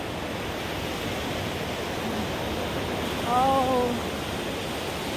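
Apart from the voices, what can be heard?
ocean waves on the seashore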